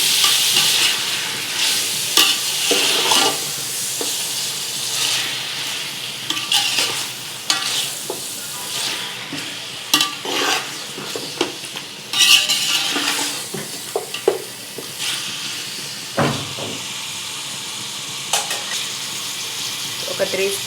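Mutton pieces fry in hot oil for biryani while being stirred, a loud crackling sizzle broken by repeated scraping and clattering strokes of a spoon against the pan, with no talking.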